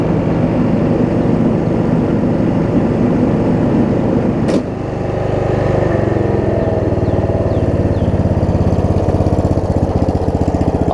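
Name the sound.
Snapper RER riding mower engine idling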